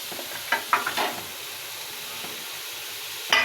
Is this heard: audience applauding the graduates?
no